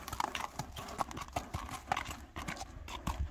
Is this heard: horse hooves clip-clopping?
yes